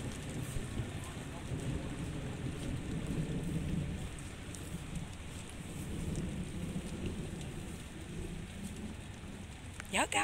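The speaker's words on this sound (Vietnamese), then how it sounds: "Ông trời mưa quá" Heavy rain pours steadily outdoors on a rural fruit orchard, with a low rumbling roll of thunder underneath, continuous and fairly even throughout, ending with a brief louder patter near the close.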